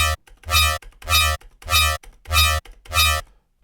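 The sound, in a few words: Serum synth patch with LFO-modulated sub oscillator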